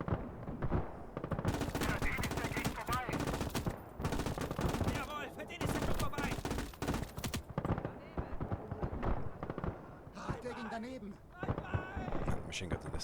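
A tank's machine gun fires long rattling bursts in the World War II game Call To Arms: Gates Of Hell, dense and loud with brief gaps, mixed with other battlefield gunfire and someone talking over it.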